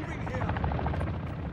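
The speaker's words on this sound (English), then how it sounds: "so we have attack helicopter here" Attack helicopter in the Call of Duty DMZ video game, a steady, loud rotor drone with a rhythmic chop, heard continuously under a speaking voice.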